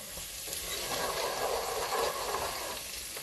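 Food sizzling and frying steadily in a hot pan, a dense hiss that swells slightly in the middle and continues throughout with no talk.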